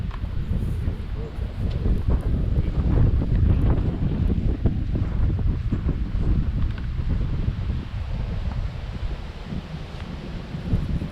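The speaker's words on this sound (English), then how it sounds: "the wind wasn't nearly as intense as it is right now" Strong wind buffets the microphone on a disc golf course, a loud steady low roar with gusting rumble that runs throughout and never lets up.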